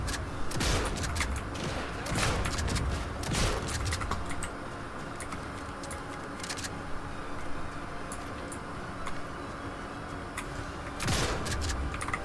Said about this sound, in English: I'm liking the shotgun a lot